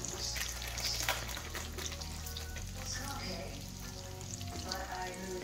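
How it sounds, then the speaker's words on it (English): Fresh garlic browns in a pan over medium heat with a steady, soft sizzle and frying crackle, faint and continuous throughout, with an occasional stir. "So we're gonna go ahead and toast or brown, if you will, some fresh garlic."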